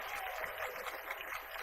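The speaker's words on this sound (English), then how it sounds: "Round of applause." A crowd at a town hall gathering gives a round of applause, a quiet, steady patter of many hands clapping at some distance, sustained without a break.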